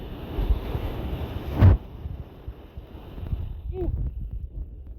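Sea waves wash onto the shore at Mijas, Spain, a soft continuous surf rushing under gusty wind buffeting the microphone, with a brief voice partway through.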